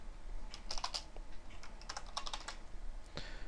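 Computer keyboard typing code, close and clear: two short clusters of quick key clicks with a brief pause between them and a single stray key tap near the end, over a faint steady hum.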